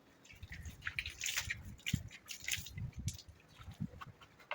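Treatment water is sprinkled over snails, landing in close, irregular drips and splashes with soft patters and small wet spatters, fairly quiet and scattered across a few seconds.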